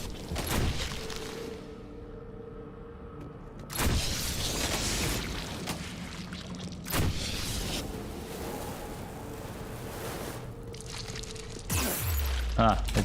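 Explosions in the video game Mass Effect, several heavy booming bursts at irregular intervals over a continuous background of game sound, with someone talking in between.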